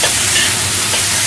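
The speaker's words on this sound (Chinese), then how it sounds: "加埋啲菜心落去， 生炒" Choy sum is stir-fried raw in a hot, oiled wok, giving a loud, continuous sizzle with scraping stirring noises in a brief, close burst.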